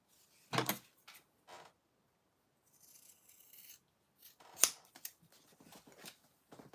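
Scissors snip through fabric while a circle bag with lining is cut, a few sharp separate snips with quiet gaps and soft rubbing in between, close and fairly faint.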